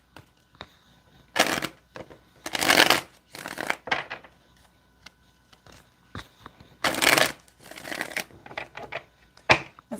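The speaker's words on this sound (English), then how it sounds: "Let's get two more shuffles here." Tarot cards are shuffled close up in several quick riffling bursts, with sharp papery flutters and soft taps and snaps between them, and no talking.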